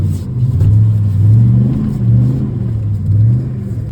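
The engine of a Silverado or Ram 3500 pickup truck stuck on a flooded bridge revs loud and close, rising and falling in a few low, rumbling surges.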